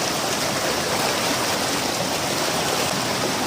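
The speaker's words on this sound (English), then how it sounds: "The problem is that the water is flowing very fast." Fast-flowing stream water at Devloli dam near a waterfall, a loud, steady broadband rush of water that fills the whole clip without pause.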